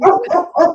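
A dog barks three times in quick succession, close and loud, with nobody talking.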